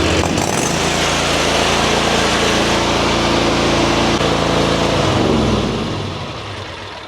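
Lawn mower engine revving hard and steady at close range, burning off its remaining fuel, then sputtering and winding down as it starves near the end.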